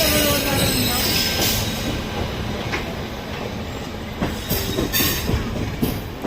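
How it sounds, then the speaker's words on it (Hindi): Kolkata Jammu Tawi Express departing from platform 3, close and loud, with rolling wheels, squealing metal and intermittent clickety-clack clunks as the train moves off. "और अपना ये डिपार्चर ले रही है Kolkata Jammu Tawi express platform number 3 से।"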